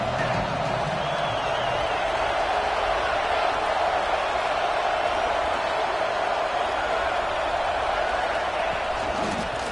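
Stadium crowd at a Nebraska versus Ole Miss college football game, a dense, steady roar of cheering voices filling the whole clip at constant loudness, with no single voice standing out.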